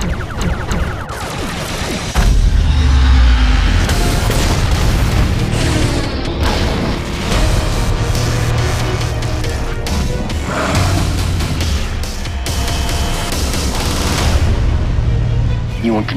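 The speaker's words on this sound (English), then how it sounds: "Gotti, prepare torpedoes. Fire on my mark." Starship torpedoes fire in the Star Trek video game, booming blasts and explosive crashes over a loud, continuous battle din with music, while people talk throughout.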